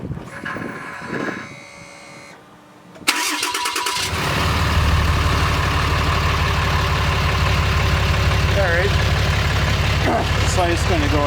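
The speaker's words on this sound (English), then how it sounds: "So let's give this a quick remote start." A fourth-generation Ram 2500 truck's engine cranks over by remote start and settles into a steady, loud idle with a deep, even rumble, after a few seconds of speech beforehand.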